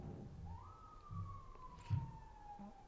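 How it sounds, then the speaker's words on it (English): A police siren wails in New York: one long, sustained tone sliding gently downward for a couple of seconds, heard over low city rumble. "Police sirens. New York."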